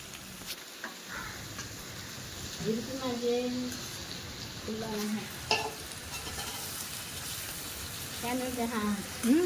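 Marinated prawns sizzle in a pan while a grandmother stirs them, giving steady soft frying hiss with scraping stirs. People talk quietly over the cooking.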